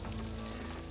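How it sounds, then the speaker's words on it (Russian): Steady, dense rain pouring down, a continuous close wash of noise with no pauses and no voices. "всезаполняющий шум дождя лучшее, что я слышал в своей жизни"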